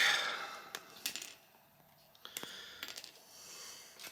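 Hobby clippers snip pieces off a plastic Genestealer miniature sprue, giving a few sharp, close clicks with light handling noise in between.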